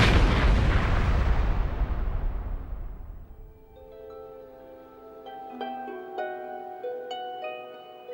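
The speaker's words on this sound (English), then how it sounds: "The huge bomb blows a crater several meters deep." A huge bomb detonates in a loud, close booming explosion whose roar decays over about three seconds, then gives way to faint ringing, jangling debris and alarm-like tones.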